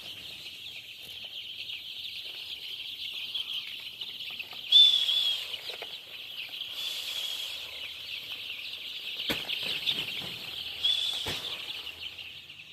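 Four-day-old chicks on a poultry farm peep in a dense, continuous high-pitched chorus, with a few louder bursts and faint thumps as they are handled for vaccination.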